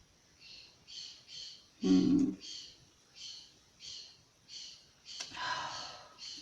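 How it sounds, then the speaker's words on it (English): Repeated bird calls ring out in a steady series of short bursts, fairly close, with a louder rustling thump partway through. "I know, they're yelling"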